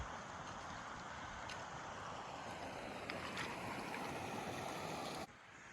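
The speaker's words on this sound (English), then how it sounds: "is the river, or the creek, that comes down from Trelawney campground" A creek flowing down from Trelawney campground into the Guy Fawkes River in remote wilderness, a steady broad rush of running water close by that cuts off abruptly near the end.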